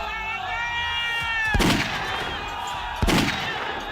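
Two sharp, loud gunshots crack about a second and a half apart over a noisy crowd and a wavering tone, during a stone-pelting riot in Jahangirpuri, Delhi.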